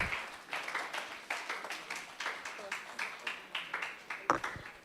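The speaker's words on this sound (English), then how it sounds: "With a round of applause, shall we please welcome Reverend Professor Engineer Eric Ofosu-Antwi" Audience applause at an emergency medicine society conference in Ghana, faint and steady clapping from a crowd, heard at a distance throughout.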